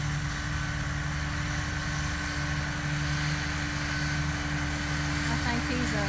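Tractor mowing hay in a field, a continuous distant engine drone with a steady low hum, running unbroken throughout while someone talks over it.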